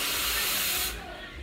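A café espresso machine's steam wand purges with a loud, close, forceful hiss that cuts off abruptly after about a second, leaving a quieter fading rush.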